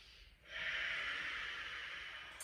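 Ujjayi yoga breath, a slow, close, hissing ocean-like exhale sustained for about two seconds after a quieter start.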